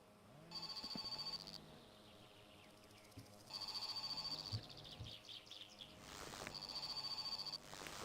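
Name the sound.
telephone ringing in video game My Summer Car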